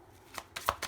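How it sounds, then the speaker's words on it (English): A deck of tarot cards is shuffled close up, giving soft riffling bursts with a few quick flicks, quiet and brief. "So I'll take one more shuffle."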